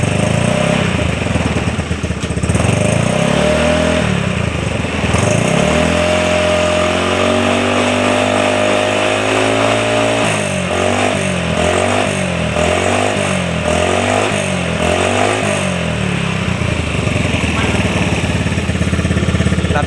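A carburetted Honda Beat scooter engine idles loudly close by, then revs up in a rising sweep and is blipped repeatedly in a regular pulsing rhythm, with a voice talking over it.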